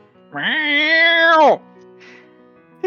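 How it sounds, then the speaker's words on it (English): A cat gives one loud, close, drawn-out meow lasting over a second, clear and harmonic, followed by a faint rustle and quiet. "A cat jumps up on your chest,"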